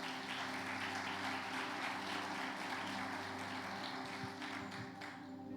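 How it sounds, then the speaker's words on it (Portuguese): A church congregation applauds steadily for several seconds, a dense wash of clapping from many hands heard at a distance with no voices over it. "Aplauda Jesus para eu tomar uma água"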